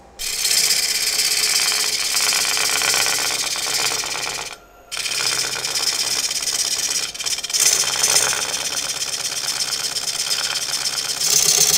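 A lathe turns a wooden blank held in a chuck while the bottom is rounded. It gives a loud, steady whirring, scraping drone that briefly stops and then resumes, with no voices.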